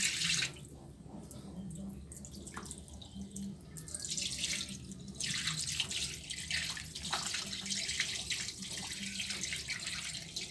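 Water pours slowly out of a resin exchanger during regeneration, a steady close trickle and splash like a running tap with faint dripping, broadband and continuous throughout with no talking.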